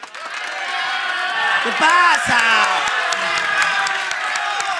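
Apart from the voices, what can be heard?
studio audience applauding and cheering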